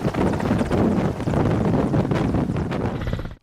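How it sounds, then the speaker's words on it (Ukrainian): Army helicopters flying close by, a loud, steady rotor and engine roar with strong wind buffeting across the whole stretch, cutting off abruptly at the end. "Їх доставили армійськими гелікоптерами."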